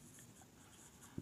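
A pen scratches across paper while solving a maths problem, a faint, close, continuous scribble with short strokes and a slight tap near the end, with no talk.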